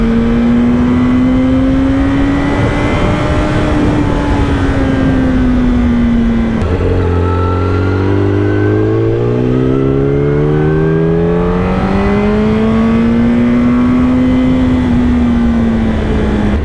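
A single engine hums steadily close up, its pitch dipping and then climbing as it shifts gears and accelerates, with no talking.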